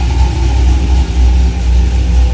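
Drift Corvette engine running steadily on a personal dyno, a loud, continuous low rumble with a faint mid-range tone, holding near-constant throughout with no audible pauses.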